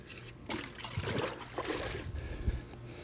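Water poured from a container onto packed sand in a backyard sand-carving form, an uneven splashing gush lasting a few seconds after a quiet start, fairly close.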